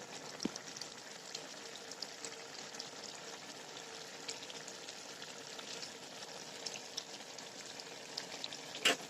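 Rohu fish pieces go into boiling curry broth, giving a soft, steady bubbling hiss at low level with a few faint clinks, quiet and without speech.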